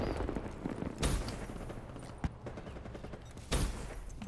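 Gunfire in a first-person shooter video game: a few sharp shots and bursts over a dense, rumbling game soundscape, moderately loud.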